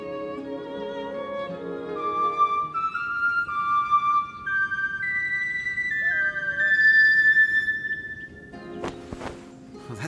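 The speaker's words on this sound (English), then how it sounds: "It's a bone whistle." A bone whistle played as a simple tune in a fantasy video game, sustained notes gliding from one pitch to the next, clear and fairly loud over a quiet ambient background, ending with a few thuds.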